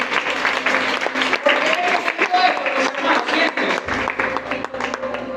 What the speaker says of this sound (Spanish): Denle un aplauso al rey aquí.